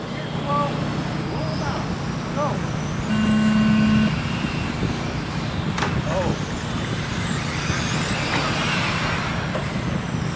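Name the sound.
race cars rolling out onto the track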